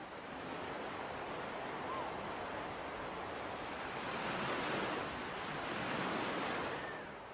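Waves wash steadily onto an Algerian beach, a broad continuous roar of surf swelling gently with some wind noise, fairly faint and with no voices.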